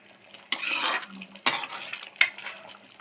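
A spoon stirs chickpea sundal with masala in a metal pot, making three distinct scraping, clinking strokes close up against a quiet background.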